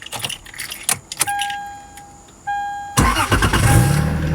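A BMW E39 540i engine with a hard-wired fuel pump cranks and catches, then settles into a loud steady idle, preceded by jangling keys and a sustained chime.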